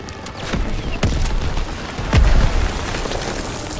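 Heavy booms and blasts from a Call of Duty: WWII firefight, with a big low frag grenade explosion near the middle over a steady noisy rumble.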